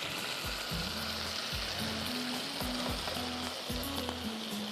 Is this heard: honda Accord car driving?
no